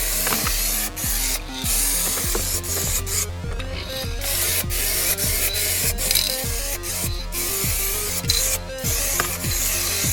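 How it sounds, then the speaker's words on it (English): White spray paint hisses steadily onto a car's roll cage in an E36 build, a close continuous aerosol rush broken by short repeated pauses and rhythmic clicking, with no voices. "we're going to do a quick spray job of the cage"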